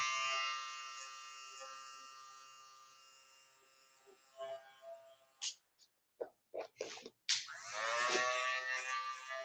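An electric hair clipper buzzes as it cuts a fade on a mannequin head. The hum is steady at first, then breaks into short on-off bursts before running continuously again, close and fairly quiet, with no speech.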